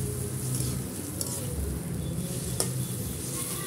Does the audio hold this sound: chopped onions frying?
yes